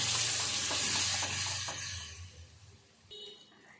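Tomato gravy poured over cooked onion and chilli powder bubbles and sizzles in a pan while it is stirred close by. The hiss is strong at first, then eases, with a few soft scrapes near the end.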